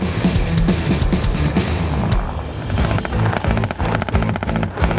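Rifle and machine-gun fire crackle continuously during a Canadian Armed Forces infantry training exercise, with dense rapid bursts and heavy thuds, loud and close throughout.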